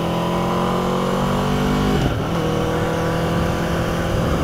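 A 2018 Aprilia RSV4RR sportbike rides through town in second gear at about 50 mph, its engine a loud, steady drone with a brief dip and recovery midway, heard close and alone.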